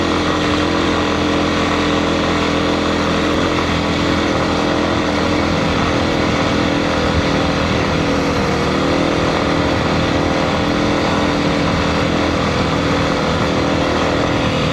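Kawasaki KLX300 dirt bike climbing a rocky Nevada mountain trail, its engine droning loud and steady throughout at close range, with no talking.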